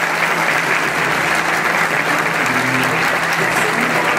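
An audience at a formal awards event claps loudly and continuously for a third-place child singer, dense steady applause filling the whole stretch.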